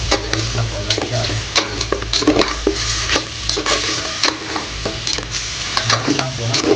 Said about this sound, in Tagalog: buksan na po natin at ating haluin po yung karne